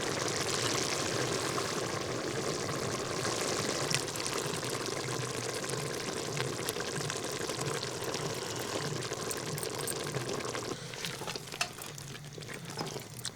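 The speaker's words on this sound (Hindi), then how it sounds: "अभी क्या ग्रेवी के लिए पानी जा रहा है?" Water pours into a pot of masala to make gravy while cooking over a campfire outdoors on a cold night, a steady close hissing and splashing with a faint sizzle that runs throughout and softens toward the end.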